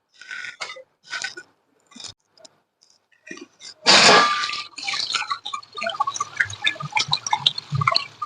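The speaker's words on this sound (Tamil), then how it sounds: "தக்காளி வெங்காயம் எல்லா காய்கறியுமே நல்லா கழுவணுங்க." Tomatoes and onions being washed by hand, with sparse splashes and drips at first, then a burst of running water and continuous close splashing and rubbing in water.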